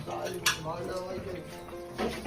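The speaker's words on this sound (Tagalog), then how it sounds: "mga kaldero, paglabahin mo na rin" Metal cooking pots clattering and clinking as they are stacked up for washing, with a sharper clank midway and another near the end, under people talking nearby.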